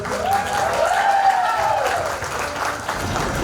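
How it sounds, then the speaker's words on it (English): An audience at an award night gives a steady round of applause and clapping, loud and continuous throughout, with faint crowd voices mixed in. "Loud round of applause, guys."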